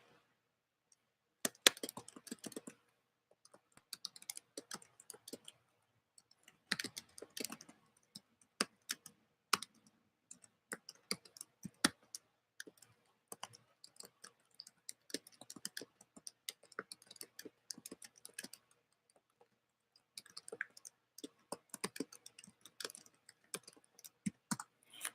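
Bursts of clicking keystrokes on a computer keyboard, close and fairly quiet, with irregular rhythm and several pauses over about 25 seconds, no voices.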